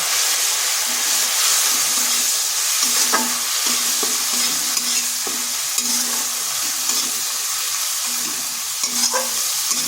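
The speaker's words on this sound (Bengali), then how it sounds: "মশলাটাকেও একটু ভেজে নিচ্ছি" Ground coriander, chilli and turmeric powder masala with a splash of water frying in a pan for a potol and masoor dal curry: a steady, close sizzle with occasional sharp clicks of a stirring spoon, no talking.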